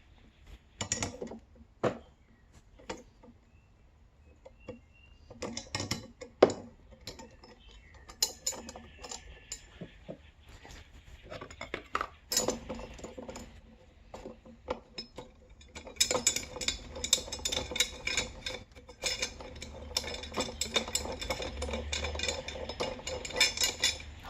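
A bolt holding the blade of a DEWALT battery lawn mower is turned counterclockwise by hand, giving irregular close ticks and clicks. Quiet pauses separate the bursts, and a denser patch of clattering comes near the end.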